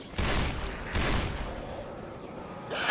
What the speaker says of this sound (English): Explosive ammo master race.